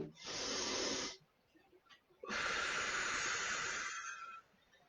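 A person exhales during a mindfulness movement exercise, two long loud breathy rushes of air close to the mic with a brief quiet pause between them and no talking.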